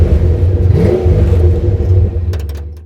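A 1959 Ford F100 truck with a Crown Vic engine swap drives along with a loud, close, steady engine rumble and rising drone, easing off toward the end.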